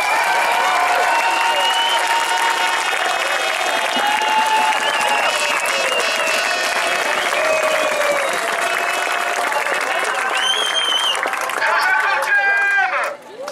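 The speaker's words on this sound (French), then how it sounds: "Vous pouvez vous applaudir." A crowd at a 4L Trophy gathering applauds itself, sustained clapping mixed with shouts and cheering voices, loud and continuous before cutting off abruptly at the end.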